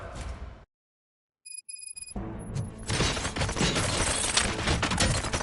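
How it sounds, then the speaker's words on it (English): Gunfire erupts in the video game RoboCop: Rogue City, a dense burst of loud shots and impacts that builds to sustained, noisy rattling after a brief silence and a few electronic tones. "Gunshots? What's going on?"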